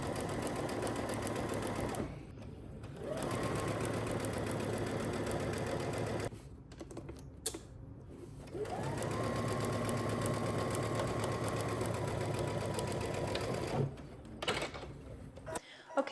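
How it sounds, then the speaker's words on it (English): A sewing machine runs one long straight stitch up a pant side seam from hem to waist, with 5/8-inch seam allowance. Steady whirring bursts alternate with short pauses, close and clear. "We're gonna head to the sewing machine and we're just gonna be doing one really long straight stitch"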